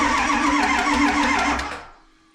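A 7.3 Powerstroke diesel engine cranks without starting, a loud, steady, grinding starter churn that holds for about a second and a half and then winds down and cuts off, with no talk over it.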